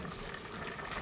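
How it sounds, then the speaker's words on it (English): A pot of homemade stew bubbles hard on the stove, giving a steady, dense sizzle and burble that runs without a break under no speech. "this is boiling quite a bit. This is the stew that my husband made."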